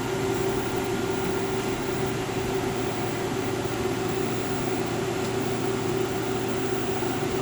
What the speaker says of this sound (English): we're going to crank up the microwave / convection with a wet rag.